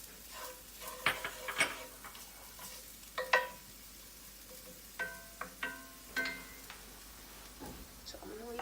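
A spoon spreads stuffed pepper filling in a dish, soft scattered scrapes and clinks close by, some louder taps among quiet pauses, no talking.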